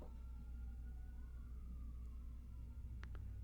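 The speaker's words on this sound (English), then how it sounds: "There's some sirens going." A faint siren wails in the distance, its tone slowly rising and falling over a low rumble, with a couple of brief clicks.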